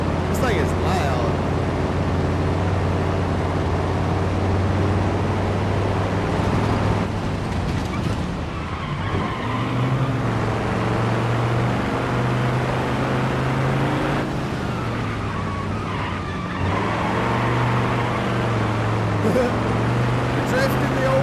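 A loud 1930s-style old car engine in the BeamNG.drive racing game drones steadily, its pitch rising and falling with the throttle, while someone talks over it.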